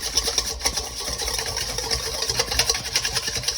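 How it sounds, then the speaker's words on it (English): A whisk beats lemon juice dressing for a pasta salad in a bowl, giving a steady, close, scratchy swishing with quick rhythmic strokes throughout. "And then you want to whisk this together."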